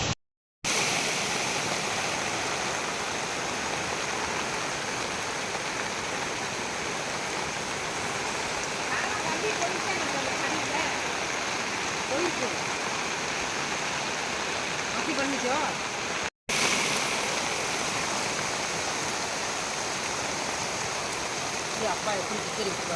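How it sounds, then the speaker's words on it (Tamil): Floodwater after heavy overnight rain surges past near a house, a loud, steady broadband rushing roar that continues almost unbroken, with only a brief gap partway through. "அந்த இடமும் ஃபுல்லாக நிறைஞ்சு இந்த பக்கம் தான் தண்ணி வருது"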